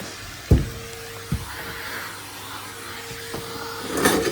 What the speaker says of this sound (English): And just have a vacuum down there.